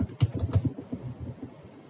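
A command is typed on a computer keyboard: a quick, close run of light key clicks lasting about two seconds, fading slightly toward the end.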